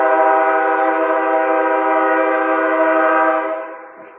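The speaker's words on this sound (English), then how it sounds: "That was a train." A passing train sounds its horn in one long, loud, steady chord that holds for about three and a half seconds and then fades out, heard alone with no talk.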